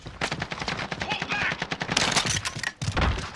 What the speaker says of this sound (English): Under hostile fire.